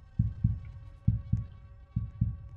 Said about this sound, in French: J'ai entendu un battement de cœur.